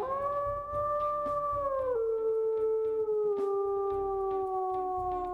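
A wolf howl from the video game WolfQuest, an older classic howl sounding as a long sustained tonal wail that steps down in pitch midway, clear and prominent over a faint low hum with no talking.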